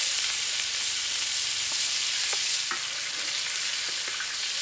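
Cut potatoes fry in lard on a disc-blade wok, a soft, even sizzle hissing throughout with a few faint taps and scrapes of stirring, no voices present.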